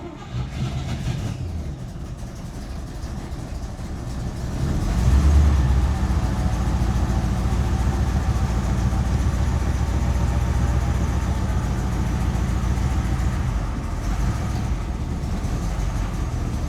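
A car engine with its timing off runs as a rough, steady low drone, rising louder a few seconds in and then holding at a constant level without talk.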